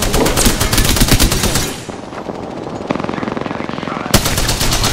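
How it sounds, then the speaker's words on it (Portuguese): Rapid automatic gunfire in an Apex Legends match, long loud bursts of machine-gun fire that drop off, then return as a steady stuttering stream before another sharp burst, with a voice briefly heard. "Mas eles estão aí aos tiros, e não é pouco."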